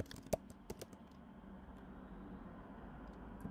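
Computer keyboard keys are tapped in a quick burst of sharp clicks near the start, followed by a few scattered strokes and then a low steady room hum with only an occasional faint click.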